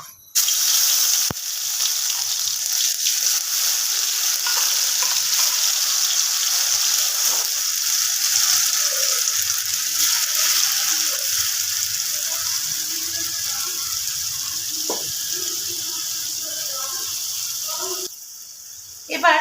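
A paste of ginger, green chili, onion and tomato sizzles steadily in hot oil in a pan for prawn malai curry, a close, even crackle running almost without a break.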